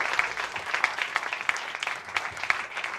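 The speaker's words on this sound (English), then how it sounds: "Round of applause." Audience applause at a toast, a steady spread of hand clapping from a modest crowd that sounds fairly close and carries on without any talk over it.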